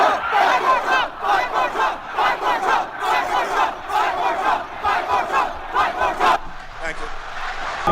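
A large crowd at a rally outside the Capitol chants in loud, rhythmic bursts of shouted voices, repeating several times with brief gaps before fading slightly at the end.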